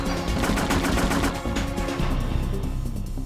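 Rapid, steady gunfire from a modded gun in Parasite Eve, a loud continuous stream of closely spaced shots running throughout with no talk.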